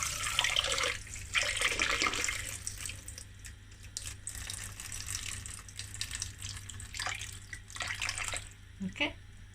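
Water is poured off the top of soaked odiyal flour, a continuous splashing trickle like a running tap that rises and falls, with faint drips near the end.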